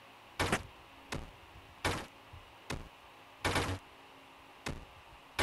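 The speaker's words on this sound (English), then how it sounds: "Stop hitting the bricks!" Bricks struck and smashed in a video game, a series of about seven sharp, loud broadband impacts at irregular intervals, each a short burst with brief decay, standing alone with no talk.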